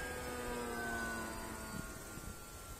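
Radial piston engine of a Polikarpov I-16 fighter in a flight game, a steady droning hum with a tone that slowly falls, ending in a short thump and rougher rumble.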